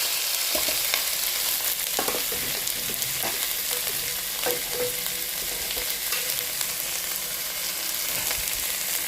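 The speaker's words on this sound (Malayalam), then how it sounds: "കടുകിട്ട് കൊടുത്തിട്ട് ഇതിലേക്ക് കിട്ടാം പച്ചമുളക് കരിവേപ്പില മഞ്ഞപ്പൊടി വലിയ ഉള്ളി കയ്പ്പക്ക ഇതെല്ലാം കൂടെ നമുക്ക് ഇതിലേക്ക് ഇട്ട് കൊടുക്കാം" Bitter gourd, onion, green chilli and curry leaves fry with mustard seeds for a Kerala-style upperi, a loud continuous sizzle with crackles and the scrape of stirring, close and unbroken by speech.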